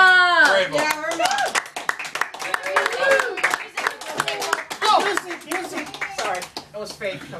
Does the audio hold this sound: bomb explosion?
no